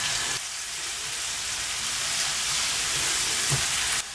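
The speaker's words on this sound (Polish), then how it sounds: "te grzyby z cebulą podsmażę na patelni" Mushrooms and onion frying in a pan with butter, seasoned with salt and pepper, giving a steady, close, continuous sizzle with a brief clatter near the end.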